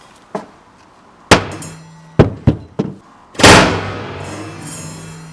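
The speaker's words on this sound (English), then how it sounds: "Let's see how it holds up against a hammer." A hammer strikes the back of a Google Pixel phone fitted in a protective case, five or six sharp, loud hard thunks spaced irregularly, the last blow heaviest with a ringing decay.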